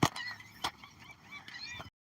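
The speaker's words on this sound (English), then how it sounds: "Can y'all hear the seagulls?" Seagulls at a beach call faintly in the distance, sharp repeated cries scattered over a soft, steady background hiss.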